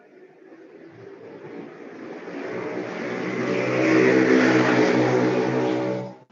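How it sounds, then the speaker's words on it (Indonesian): A motorbike passes along a street: a steady engine hum swells louder and nearer over several seconds, then cuts away abruptly, with no voices. "Ada suara motor lewat, ada yang di jalan."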